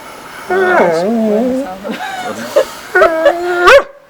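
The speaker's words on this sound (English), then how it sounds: "This is my dog." Dog at an off-grid home giving a run of whines, yips and short howling barks, close and loud, with pauses between bursts.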